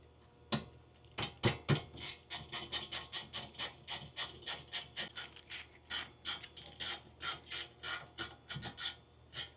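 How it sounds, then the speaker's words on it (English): Rhythmic rasping wipes inside the brake calipers of a 2024 Acura Integra DE5, about twenty regular close strokes of rag or brush against metal, preceded by a few scattered scrapes. "I'm just wiping the calipers out and cleaning it up a little bit"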